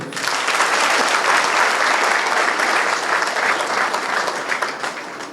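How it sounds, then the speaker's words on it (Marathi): Loud, dense applause from a large crowd at a political event, sustained for several seconds and fading slightly at the end, with no one talking. "असे 7 उमेदवाराला जोरदार टाळ्या होत्या."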